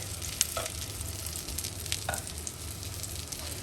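Frozen shami kebabs fry in hot oil with a steady, soft crackling sizzle, faint and continuous, with a few light utensil taps and no talking.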